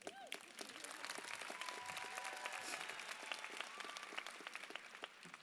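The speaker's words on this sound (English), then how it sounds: "go ahead, you can clap" Audience applause fills a graduation ceremony hall at the Horizonte Instruction and Training Center, steady sustained clapping from a crowd heard at a distance, fairly faint and continuous throughout.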